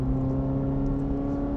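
A Chevrolet Corvette C8 under part throttle acceleration, a steady, loud low engine drone with a strong humming tone, heard from inside the car with no talking.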